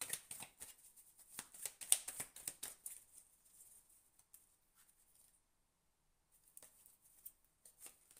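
Tarot cards are shuffled by hand in quick, soft riffling bursts, close and quiet, then fall silent for a few seconds before a brief second round of shuffling.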